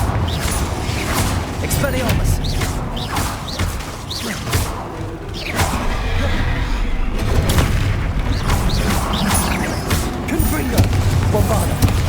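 Repeated spell blasts in a Hogwarts Legacy video game duel, Bombarda and Confringo, booming explosions and impacts in quick succession over a rumbling battle background.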